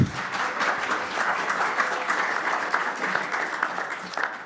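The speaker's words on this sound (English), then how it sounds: "I will take that as a round of applause for myself for being efficient." An audience at a school education meetup claps in steady, moderately loud applause that carries through the whole few seconds.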